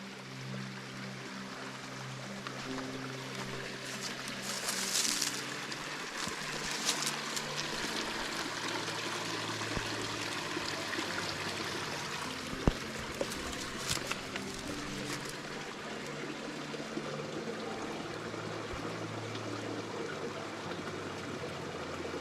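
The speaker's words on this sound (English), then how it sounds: "I like to just sit here on this little bridge and watch the water flow and let my mind flow away." Mountain stream water flows steadily beneath a small bridge, a continuous soft trickling wash with a few brief birdlike chirps, heard alone without talk.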